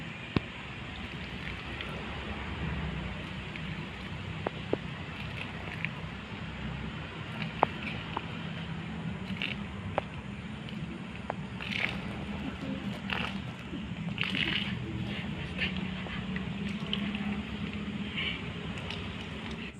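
Water poured onto a zinc sheet roof to mimic rain makes a steady hissing patter with scattered sharper drops and taps, fairly close and continuous, with no one talking.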